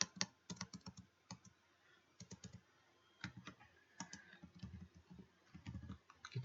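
An IP address typed on a computer keyboard in close, quick bursts of clicky keystrokes separated by short pauses.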